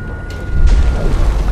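Grinding machinery from the video game Gears of War 4, gears jamming with tendrils caught in them: a short low rumbling mechanical churn with a creaking boom swelling up, loud and close, no talk.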